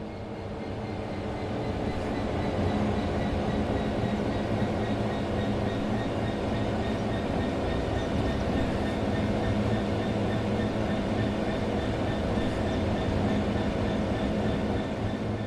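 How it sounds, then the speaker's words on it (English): A train in Train Sim World 3 coasting on level track with the throttle at zero, a steady loud rumble of wheels and running gear droning on continuously without change. "The train will then coast on level ground, and the train will only slow down very gradually."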